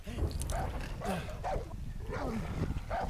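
In the video game Far Cry New Dawn, a dog barks and yips repeatedly in a steady rhythm, moderately faint beneath game noise and a man's speech.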